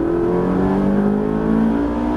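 A Ferrari F458 engine roars steadily under full throttle on the Le Luc circuit, its pitch rising as it accelerates, loud and close throughout.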